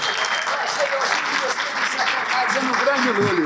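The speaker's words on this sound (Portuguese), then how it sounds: "Palmas para ele." Steady applause from a conference audience, dense clapping filling the whole moment, with a voice speaking faintly underneath.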